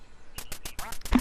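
Cartoonish duck quacks from the Duck Hunt character in the Super Smash Bros video game, a quick run of five or six bright, close quacks in a rapid rhythm, alone with no talk.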